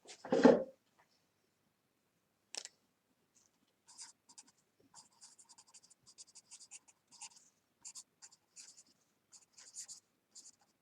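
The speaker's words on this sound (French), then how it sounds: "J'attends la réponse, j'écris en attendant." Pen or pencil writing on paper while working a trigonometry exercise, a run of short scratchy strokes after a louder knock at the start, fairly quiet and close, with no talk.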